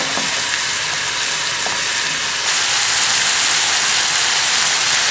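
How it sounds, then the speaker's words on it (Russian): A pot of potatoes heating toward a boil for red borscht, giving a steady, fairly loud hissing and bubbling wash that swells and brightens about halfway through, with no voices. "Здесь у нас закипает картошечка."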